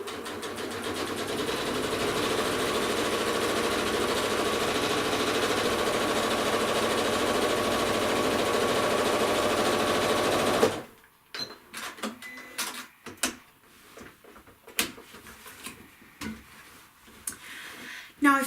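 A sewing machine fitted with a walking foot stitches lines across a quilt in a steady, loud, whirring drone for about ten seconds, then stops, leaving scattered quiet clicks and fabric handling.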